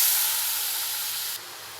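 Jaggery syrup for coconut poli filling boiling in a pan, a steady close broadband hiss and sizzle that drops slightly in level near the end, with no voices.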